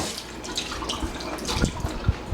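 Tap water runs steadily into a kitchen sink as a butter-greasy pan is rinsed, with a continuous close splashing rush and a few louder sloshes and clunks near the end.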